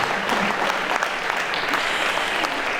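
Audience applause at a film premiere at the Cinémathèque suisse, a dense, steady patter of many clapping hands filling the room throughout.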